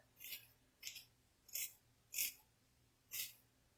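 Scissors snipping through gray hair while cutting layers make five crisp, close shearing snips at a slow, even pace in an otherwise quiet room.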